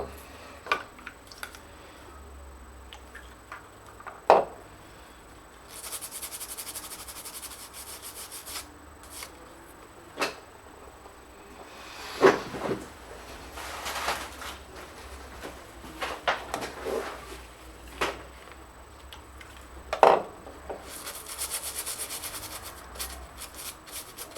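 A small brush scrubs across a Dell Vostro 3420 laptop motherboard during repair, giving soft, intermittent bristly rubbing strokes with scattered faint clicks and taps, close and quiet with no talking.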